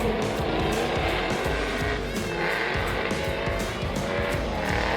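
A drift car hits its first-turn initiation hard in tricky conditions, engine roaring loud and close with continuous tire squeal and skidding throughout.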